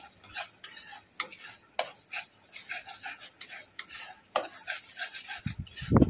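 Soybeans sautéed with cumin powder and salt in a pan, with repeated clinks and scrapes of a spoon against metal, ending in a louder clatter.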